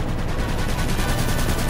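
Aircraft machine gun fire in Aviators: War in the Skies, a World War II-era dogfight, as a steady rapid rattle that runs unbroken and loud for the whole moment.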